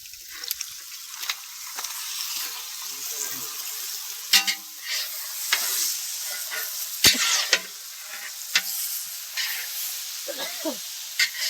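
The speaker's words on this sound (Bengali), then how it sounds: "তো চিকেনটা এখন কড়াইতে ঢেলে দিচ্ছে।" Hissing sizzle of chicken frying in a wok, with sharp clanks and scrapes of a spatula; a voice murmurs briefly in the background.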